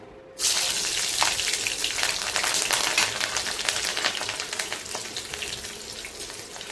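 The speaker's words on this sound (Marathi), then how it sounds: "सुरुवातीला सगळ्यात आधी मिरच्या तळून घेऊया।" Green chillies for fasting-style pakoda drop into hot oil with a sudden loud burst of bubbling sizzle that holds steady and dense, close by, then eases slightly toward the end.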